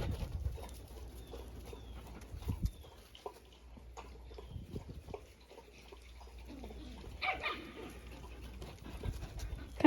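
A dog on a walk with its pack makes faint, scattered sounds, with brief yips or whimpers and small movement noises spread across a quiet outdoor background.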